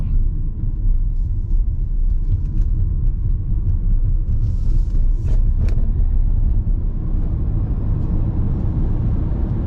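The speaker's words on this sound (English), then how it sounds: "So we're driving around town and it feels nice on the road." Interior of an electric car with a 50 kilowatt hour battery driving around town: a steady low road and tyre rumble with little motor noise, continuous and fairly loud.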